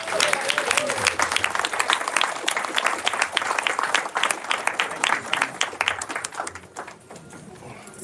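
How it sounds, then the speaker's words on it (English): Wedding guests at a reception break into a round of applause for the couple, dense crowd clapping that stays loud for several seconds before thinning out near the end, with a voice talking over part of it. "May I request you all to welcome them with a round of applause."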